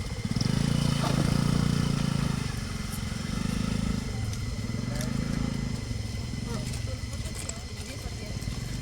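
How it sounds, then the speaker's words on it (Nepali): A scooter stuck on a slippery, muddy path revs hard, its loud engine droning and surging and then easing off, with voices talking over it outdoors. "स्कुटर फस्यो"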